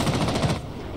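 Rapid automatic gunfire bursts out in Rainbow Six Siege, a loud close volley of shots lasting about half a second before cutting off.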